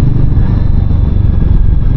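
A Royal Enfield Guerrilla 450 motorcycle engine runs steadily just under 3000 rpm while riding in third gear, a loud, close, rumbling low throb with a constant even rhythm.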